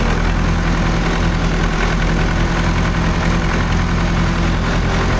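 A snowmobile engine runs at a steady idle, a continuous low rumble and vibration close by with no talk over it.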